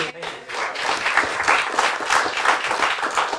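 Audience applause at a debate, a dense, steady wash of many hands clapping at once that stays loud and continuous throughout.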